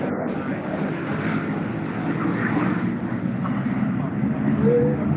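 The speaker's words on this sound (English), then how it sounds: "there goes the plane" Airplane rolling down a runway, heard as a steady broad engine roar at moderate distance that swells slightly near the end, with some speech in the background.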